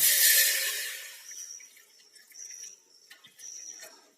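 A glass of water poured into a pan for boiling trimmed green beans: a short, bright splash and gush up front, then faint drips and trickles trailing off, close and without talk.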